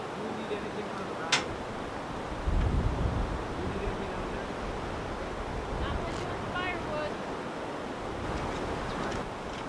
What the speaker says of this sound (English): taking in the sound of the river